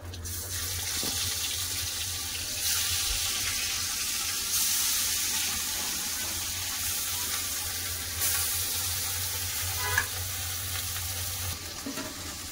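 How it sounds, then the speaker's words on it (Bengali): Steady hiss and sizzle of fish frying in hot oil, continuous and close, with faint clinks of utensils now and then. "বাকি মাছগুলো ভেজে নেবো।"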